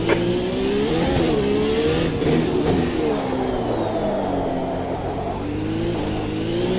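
A Formula 1 car in the racing game Automobilista 2, heavy with fuel on an early lap on cold tyres, revs loud and close, its engine note rising and falling steadily through gear changes with no talk.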